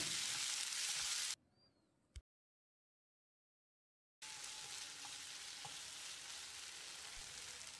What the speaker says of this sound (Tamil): தக்காளி நல்லா மசிகிற அளவுக்கு வதங்கணும்